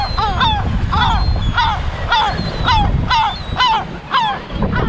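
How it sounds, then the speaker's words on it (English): Seagulls on a rocky beach in the Algarve, Portugal, squawk in a steady series of harsh, repeated calls, loud and close, roughly two each second over a low background rumble. "And we have seagulls."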